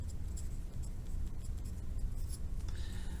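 A pen writing by hand during an activity-based costing lesson, a soft continuous scratching close to the microphone with no talk.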